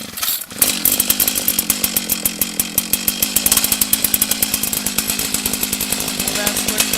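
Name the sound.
gas-powered ice auger with chipper blades starting and running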